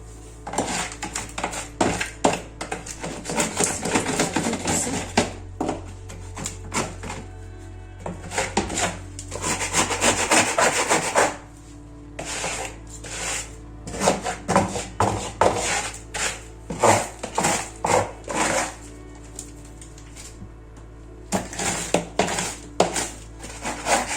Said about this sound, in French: Je vais prendre ma spatule en bois pour gratter parce que c'est collé en fait.